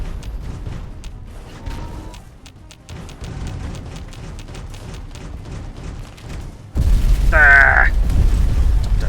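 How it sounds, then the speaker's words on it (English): Nuclear blasts in Fallout: New Vegas build as layered rumbling booms with crackling debris, then a sudden much louder detonation rolls in near the end, heavy and sustained. "Don't know where those nukes are coming from, or where they were trying to go"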